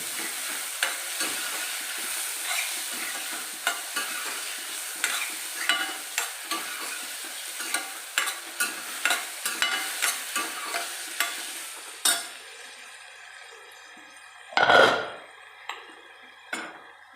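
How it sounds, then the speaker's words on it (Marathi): Snake gourd sautés in oil in a pan, with repeated scraping stir strokes over a constant sizzle that suddenly drops away, leaving a few isolated clatters and one louder burst of pan noise. "मी याच्यामध्ये पडवळ टाकतो हे सुद्धा छान तेलावर जरा परतून घेतो"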